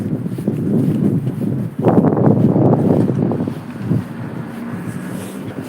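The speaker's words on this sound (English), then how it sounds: "it's super windy too, man" Strong gusts of wind in a snowstorm in Rzeszów, Poland, buffet the microphone with loud, rumbling bursts that swell and ease, close and continuous.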